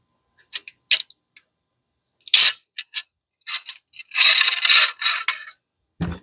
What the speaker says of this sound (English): Next, you'll need to remove the carrier sled.